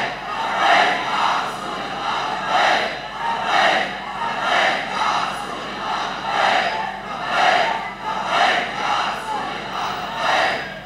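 A large crowd chants the Labbaik slogan in rhythmic, roaring bursts roughly once a second, loud and sustained throughout, at a religious political gathering led by Khadim Hussain Rizvi.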